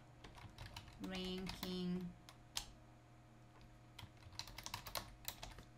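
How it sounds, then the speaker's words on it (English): Quick bursts of clicky keystrokes on a computer keyboard sound close and crisp, typing in short runs with pauses, while a voice speaks briefly over a faint background hum. "I'm going to type in YouTube"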